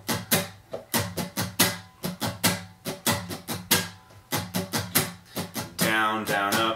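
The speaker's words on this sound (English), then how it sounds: "The strumming on this song and the rhythm is by far the hardest thing." Strummed guitar plays the rhythmic pattern for the Hillsong Young & Free song Alive, with quick, percussive down and up strokes in a syncopated rhythm, close and clear, ending on a ringing chord.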